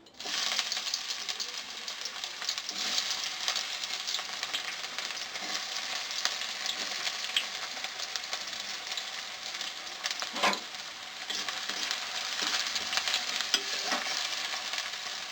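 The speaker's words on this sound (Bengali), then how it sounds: "তো আমি এরপর তেলের মধ্যে দিয়ে দিচ্ছি পেঁয়াজ কুচি।" Chopped onions fry steadily in hot oil for chana, giving a dense, continuous close sizzle with one brief sharper crackle midway and no speech.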